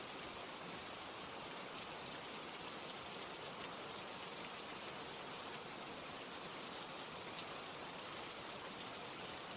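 Steady rain falling, a dense, even hiss of drops across the whole span, fairly quiet and unbroken, with no voices or other sounds.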